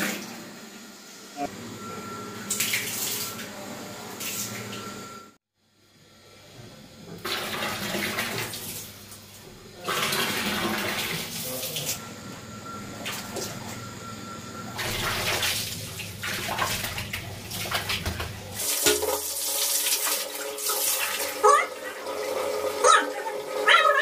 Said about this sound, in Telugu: రివర్స్ కొట్టిన తర్వాత మనకి ఇక్కడ వాటర్ వచ్చేసింది